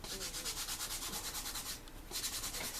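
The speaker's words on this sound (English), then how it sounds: "I'm going to rub my fingers on it back and forth a few times and see if anything comes off" Fingertips rub back and forth across a table tennis blade to lift off old glue residue. The strokes are steady, close and rhythmic, with a brief pause near the end.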